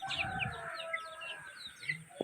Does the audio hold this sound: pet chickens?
yes